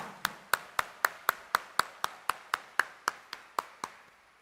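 Slow, evenly spaced single claps, about fifteen sharp strikes roughly a quarter second apart, fairly quiet and alone, at a church mass at Quiapo Church on New Year's Eve.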